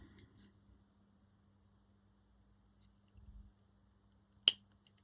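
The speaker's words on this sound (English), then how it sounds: "I'll cut that end off" A single sharp snip as craft wire is cut with a small cutter, bright and close, following a few faint handling taps in an otherwise quiet room.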